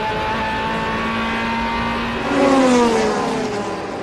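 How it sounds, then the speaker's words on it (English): Onboard a Ferrari GT race car at Monza during a 2008 FIA GT round, the engine drones at a steady high pitch, then shifts and climbs as the car accelerates, loud and close from the cockpit. "We're inside the cockpit of number 62, Fabio Babini's Ferrari."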